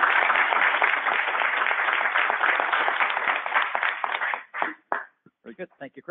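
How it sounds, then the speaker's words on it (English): Audience applause for a conference panel in Philadelphia, a dense wash of clapping for about four seconds that then thins into a few scattered claps and fades. "If we can get a round of applause for the panel."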